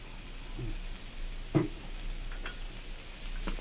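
Soy sauce hitting noodles frying in a wok, a faint steady sizzle with a brief louder splash partway through and light scraping, recorded quietly with no talk.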